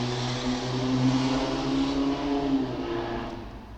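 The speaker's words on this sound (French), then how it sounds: "Laissons passer la moto bruyante de la ville." A noisy motorcycle passes through a town, its engine a steady, close droning hum that swells slightly midway and eases off toward the end, with no one talking.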